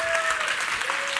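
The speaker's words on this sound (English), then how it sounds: "give me a big applause" An audience claps at a health talk, producing dense, steady applause that fills the whole short stretch at an even level with no voices.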